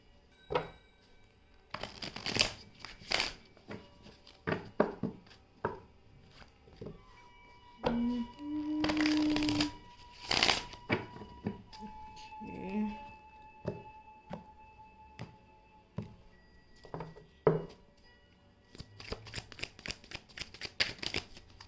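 Tarot cards are shuffled by hand in a quiet room, a run of crisp riffling bursts and soft flicks with irregular pauses, close and fairly faint, with a few brief longer rustles and no talking.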